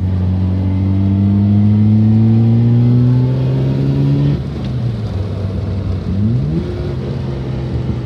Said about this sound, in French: Plaisir de conduire cette bagnole, toujours extrêmement sympa.